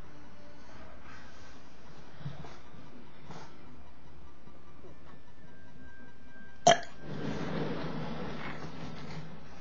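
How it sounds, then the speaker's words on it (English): A large burp sounds from a person: a long, low, rumbling belch over quiet room noise, ending in a brief loud click and a hissy breath. "Those are some big burps."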